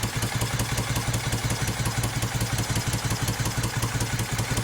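A 1971 Moto Guzzi Ambassador motorcycle engine, newly restored and running tight, idles steadily with a rapid, even, throbbing pulse and mechanical clatter throughout, close and loud.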